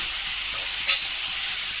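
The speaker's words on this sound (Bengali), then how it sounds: "এখানে উচ্ছে আলু ভাজা হচ্ছে, কিচ্ছু দিইনি, শুধু নুন আর হলুদ দিয়ে" Bitter gourd and potato fry in a pan with only salt and turmeric, giving a steady, close, hissing sizzle throughout with one brief sharper crackle.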